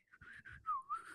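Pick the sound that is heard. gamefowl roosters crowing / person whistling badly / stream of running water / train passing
person whistling badly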